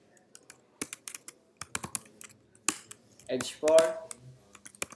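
Rapid computer-keyboard typing while entering HTML heading tags: bursts of sharp, close key clicks in an uneven rhythm, interleaved with a person speaking.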